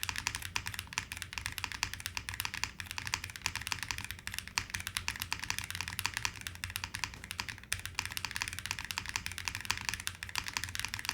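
Someone types steadily on a Gem80 mechanical keyboard fitted with Cherry keycaps, producing a dense, close stream of quick key clacks and taps with no talking.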